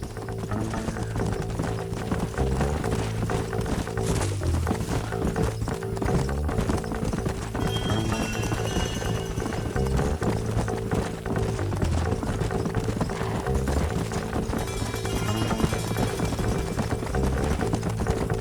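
Horses gallop in Red Dead Redemption 2, with loud, dense clip-clop hoofbeats running steadily throughout alongside occasional neighs and background game music.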